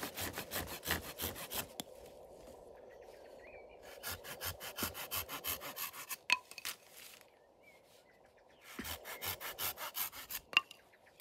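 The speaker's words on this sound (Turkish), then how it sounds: "Bunu testereyle keseriz arkadaşlar. Bu bıçakla makasla kesilmez." A hand saw cuts through a walnut grafting scion in three bursts of quick rhythmic back-and-forth strokes, close and crisp, separated by short pauses with small clicks.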